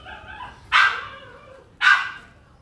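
A puppy gives two short, sharp barks about a second apart, close and fairly loud, with quiet background between them.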